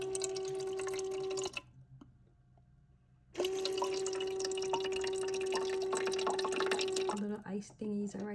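A portable RV ice maker fills with water, giving a close, soft trickle and drip with a steady electrical hum that cuts out briefly, then resumes before ending in scattered clicks.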